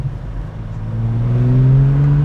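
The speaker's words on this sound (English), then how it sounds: "Oh, the sound of the engine is awesome." Ferrari 456M GT Scaglietti V12 engine revving up, a steady low drone that swells and climbs in pitch, close and fairly loud with no talk over it.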